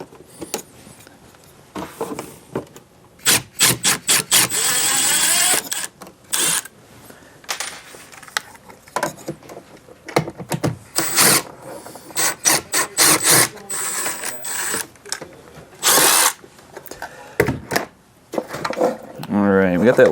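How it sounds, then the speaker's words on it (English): Trim panel tool prying a Jensen double DIN stereo out of the dash of a 2011 SunnyBrook Brookside fifth wheel RV, giving close scraping, rubbing and sharp plastic clicks in irregular bursts. "take that trim panel tool and kind of pry"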